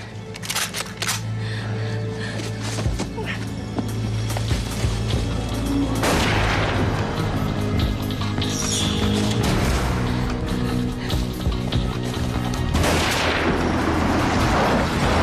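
Pistol shots fired during a tense police scene in a German TV crime drama: two loud, sharp bursts about six seconds apart that stand out over a steady, humming background.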